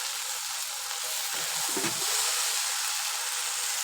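Okra with onion fries in oil with a soft, even sizzle and hiss, stirred gently now and then with a muffled scrape of the spatula around the middle.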